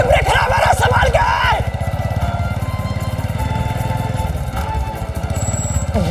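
A motorcycle with failing brakes being ridden, its engine a steady, close, loud pulsing rumble throughout, with voices briefly over it at the start.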